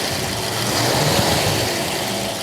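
A 1967 K-code Ford Mustang V8 with mechanical lifters idles steadily close by, a rough, raspy mechanical hum with no voices, loud and even throughout.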